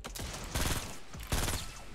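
Bursts of video game gunfire in two dense volleys, loud and close, with a steady background hum between shots.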